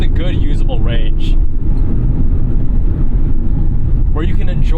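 Naturally aspirated V8 of a 2011 BMW M3 E90 or 2009 Aston Martin V8 Vantage, loud steady engine drone with revving sweeps near the start and end, under talking.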